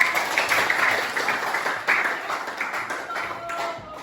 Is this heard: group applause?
yes